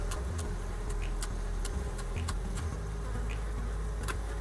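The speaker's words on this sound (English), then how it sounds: "Good bees." Honeybees hum steadily and near on a snowy day, a continuous drone with faint clicks and ticks scattered over it and no voices.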